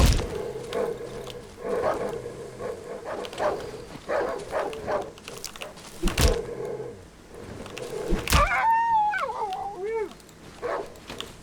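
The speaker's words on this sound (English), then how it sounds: "that's 2 dogs" Two hostile dogs in the Darkwood horror game give wavering, rising-and-falling howls and whimpering yelps, with sharp impacts and a dense rumble of game noise around them. Several loud close bursts stand out along the way.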